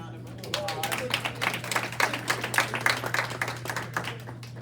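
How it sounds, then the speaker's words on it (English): A crowd at a graduation ceremony applauds, with dense clapping that swells and then gradually thins out over a constant low hum. "Let's give her another round of applause."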